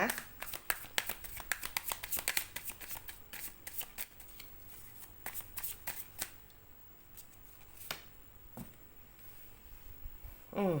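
Tarot cards being shuffled at length, a dense run of quick papery riffles and snaps close up, thinning after midway into scattered slaps and a final burst.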